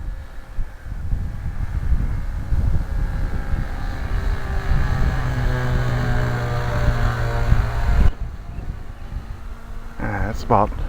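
A nitro-powered RC plane engine drones at quarter throttle in an open field, holding a steady buzzing tone with shifting pitch and wind noise over it, then cutting off near the end.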